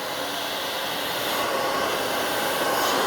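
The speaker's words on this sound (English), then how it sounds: "You want to always keep your blow dryer moving." A handheld blow dryer runs steadily while drying hair, a loud, continuous close-up whoosh that holds without pause or break for the whole stretch, with no talking over it.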